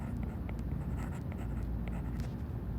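Pen scratching steadily across paper while working through a managerial accounting exercise, a soft continuous rasp with faint strokes at close range and no talk.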